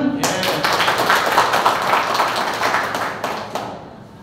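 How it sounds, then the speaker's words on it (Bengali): Audience at a leadership training event clapping together, a dense, steady burst of hands that holds for about four seconds before tapering off. "ওনার জন্য একটা তালি হবে না?"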